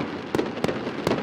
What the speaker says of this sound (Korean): 폭죽을 터뜨리는 시민들로 넘쳐납니다